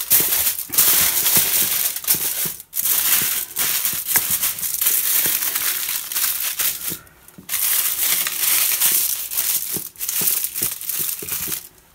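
Aluminium foil being crinkled and folded by hand while wrapping a lid for steaming, with continuous close crackling and crumpling in bursts and brief pauses, no talking.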